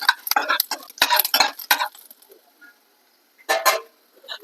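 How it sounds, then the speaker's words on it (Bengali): Chopped garlic frying in oil in a pan for a banana-flower chop: bursts of crackling spatter and spoon clatter in the first two seconds, a near-silent gap, then another brief crackling burst, no talking. "রসুনটা ভেজে নিতে হবে"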